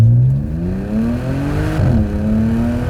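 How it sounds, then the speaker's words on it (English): Supercharged Audi S5 launching from a standstill, engine note climbing hard through the revs, a quick upshift with crackling exhaust pops, then pulling up again; loud and close. "Nice sounding crackles on the upshift."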